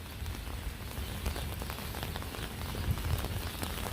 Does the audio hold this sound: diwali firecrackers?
no